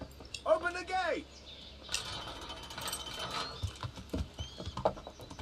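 Horse hooves clattering in the Kingdom Come: Deliverance video game, a rapid run of beats mixed with a horse's whinny, rattling gear and scattered voices, moderately loud and close.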